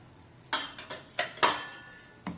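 A spoon clinks and scrapes against a bowl while batter is mixed with green chillies, ginger, curry leaves and cumin, giving several light, irregular metallic taps close by.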